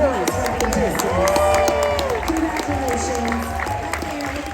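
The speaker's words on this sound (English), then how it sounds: "We have a huge round of applause for our contestants" Studio audience at a Hollywood Squares game show on a fan cruise applauds and cheers the contestants, a dense, steady wash of clapping and crowd noise mixed with voices and tonal background sound throughout.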